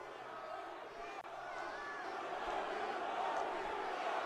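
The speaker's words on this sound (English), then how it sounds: "Oh, you can hear the boos." A WrestleMania arena crowd boos in a faint, distant, sustained roar that swells slightly toward the end.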